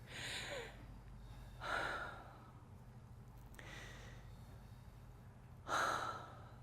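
People at a voice coaching lecture during a festival breathe into the upper chest, with three or four audible inhalations spaced a couple of seconds apart over a quiet room hum.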